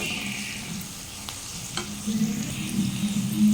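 Masala bitter gourd frying in a pan as it is stirred, a steady close sizzle with soft scraping strokes of the spoon that grow slightly louder toward the end.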